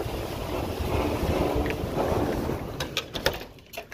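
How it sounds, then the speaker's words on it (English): Heavy blizzard winds roar and buffet the microphone in a constant rushing noise, with a few sharp gusts and knocks near the end. "Heavy winds."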